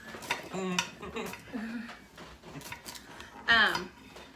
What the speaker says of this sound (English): let me get started cutting up the vegetables